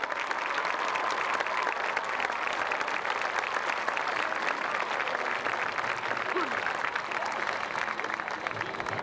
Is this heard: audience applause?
yes